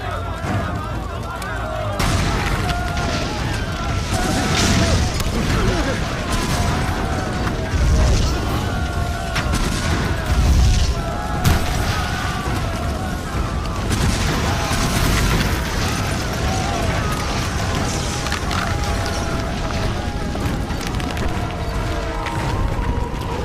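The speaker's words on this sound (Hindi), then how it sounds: "3 मिनट बाद इस साइट पर एक के बाद एक धमाके होने वाले हैं।" Booming blasts and bursts from a Hindi-dubbed Telugu action movie roll on continuously at a building site, loud and dense, layered with score and effects.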